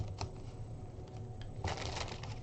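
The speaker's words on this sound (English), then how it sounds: "We're going to shuffle and cut using the minor arcana" Tarot cards of the minor arcana are shuffled in a quiet room, giving soft papery riffles and brief flicks, with a denser burst of shuffling toward the end.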